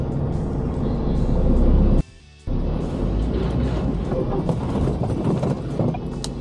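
A loaded truck shunting back and forth to flatten an oats load in its trailer, heard as a loud, continuous low engine rumble with wind buffeting, cut by a short dip before the drone resumes.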